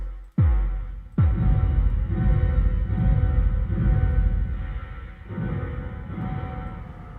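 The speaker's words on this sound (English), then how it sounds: "give me a big reverb." Deep synthesizer tones in FL Studio strike in turn and swell into a long, washy, big reverb tail that sustains and slowly fades, loud and without any voices.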